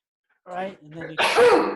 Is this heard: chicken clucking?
no